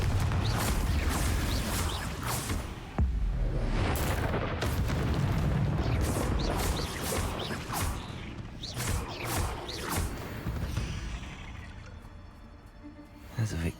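A Confringo fire spell explosion in the video game Hogwarts Legacy, heavy booming blasts and whooshes erupting repeatedly over several seconds, loud and close, then fading into quieter rumble.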